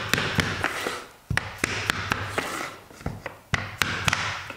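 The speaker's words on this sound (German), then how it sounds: "nehmen wir noch das Multitool und können das quasi noch ein bisschen dran klopfen" A multitool is tapped against a laminate floorboard during installation, giving a series of sharp, close knocks at an irregular pace, some single and some in quick pairs, over a quiet room background.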